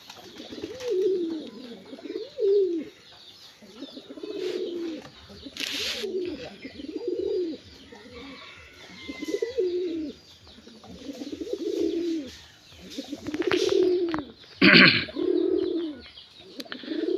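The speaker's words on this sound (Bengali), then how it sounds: "আমার শখের কবুতরগুলো।" Pet pigeons coo repeatedly in a slow, rolling rhythm close by, with a few brief flutters and rustles between the calls.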